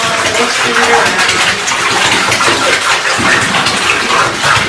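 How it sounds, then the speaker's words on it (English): Milk poured into a filled bathtub while the water is stirred, a steady loud broadband gush and splash throughout with faint voices now and then underneath. "We're going to pour in the milk now."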